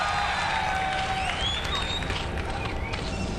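Dense crowd noise from a BlizzCon audience, cheering and applauding steadily at a 2005 invitational grand final, with a broad continuous wash throughout and faint whistles rising above it.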